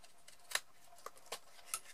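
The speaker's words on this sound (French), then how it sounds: "on va utiliser nos ciseaux" Scissors snipping paper on an angled cut while making a small paper lipstick case, with four short, quiet, crisp snips spaced irregularly against a near-silent background.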